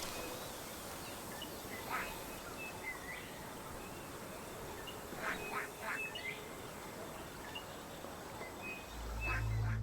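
A cartoonish duck quacks in Hitman 2 after the sixth and final duck is shot, with a few short nasal quacks spread across the stretch over a steady background ambience.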